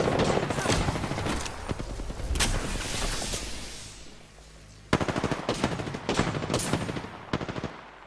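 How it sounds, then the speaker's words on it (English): Rapid automatic gunfire in Apex Legends strikes the player, loud sustained bursts with a short lull before another volley, a voice briefly talking amid the shots. "Shots fired, and they're hitting me."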